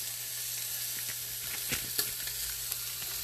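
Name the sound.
meat sizzling in a pot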